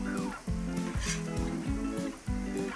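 Burgers and onions sizzle on a Blackstone griddle, a steady close frying hiss with repeated stirring or scraping strokes and some low rhythmic thumps, and no voices.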